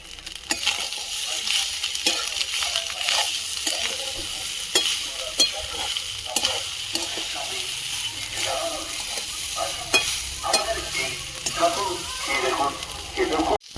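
Rice with capsicum and carrot is stir-fried in a pan: oil sizzles continuously under repeated sharp scrapes and clacks of a spatula stirring at a brisk, uneven rhythm, with occasional voices in the background.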